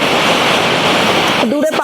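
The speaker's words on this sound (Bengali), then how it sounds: "চারিদিকে খালি ঝর্ণার আওয়াজ" Rainbow Waterfall in Sonada roars as a dense, steady rush of water, loud and close. A voice starts speaking over it near the end.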